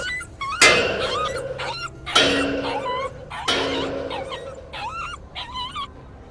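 A dog in the video game The Inquisitor whimpers and yips in repeated whiny bursts, each preceded by a sharp thump, up close and fairly loud.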